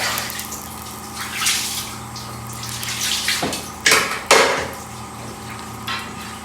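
Tap water runs and splashes in a kitchen sink while boiled beef is cooled, with loud clanks and knocks of pots or dishes breaking through the steady flow.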